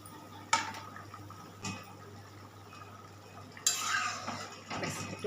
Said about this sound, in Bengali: ঝোলটা ফুটে এসছে, মাছটা দিয়ে দিই।